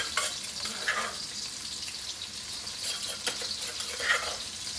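Continuous sizzling hiss of stir-frying beef with holy basil in a wok, with occasional scraping and clattering bursts as the food is tossed and stirred.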